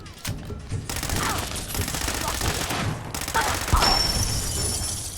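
Rapid gunfire in Fallout 4 targets the player, dense bursts of automatic shots and fusillades crackling loud and continuous with sharp impacts, over background game noise.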